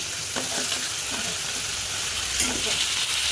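Onions and garlic fry with bay leaf in hot oil, giving a loud, continuous sizzle with a few faint stirring scrapes.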